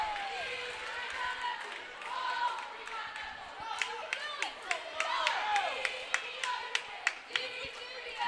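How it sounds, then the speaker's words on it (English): Fans at a girls' high school basketball game clap in a quick rhythm during a free throw, with crowd murmur and an announcer talking over the clapping. "Lady Cougar fans trying to cheer on Reagan Cave"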